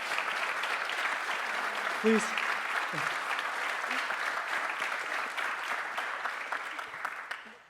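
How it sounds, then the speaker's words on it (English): Steady audience applause in a recital venue, sustained clapping that tapers toward the end, with a voice briefly speaking over it. "But let's clap for him anyway."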